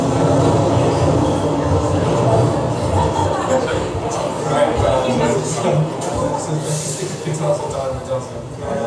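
Inside a moving underground train, a steady loud rumble and rattle fills the carriage, with a crowd murmuring and voices talking throughout.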